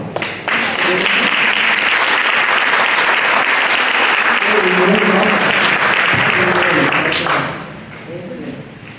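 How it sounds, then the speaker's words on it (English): Audience applause at a Chinese American WWII veterans ceremony in Fresno, a loud sustained clapping crowd that starts abruptly and holds steady before fading out near the end. "Thank you for all the applause."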